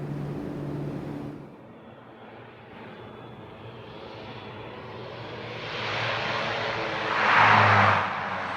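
A Kodiak turboprop in a flight simulator, a broad airy engine roar that dips, then swells steadily and peaks loudly near the end.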